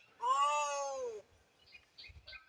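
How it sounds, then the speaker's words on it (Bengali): A cat stuck about thirty feet up in a tree lets out one long, drawn-out plaintive meow, loud and clear, followed by faint rustling and small outdoor sounds. "বিড়ালটা কাঁদছে"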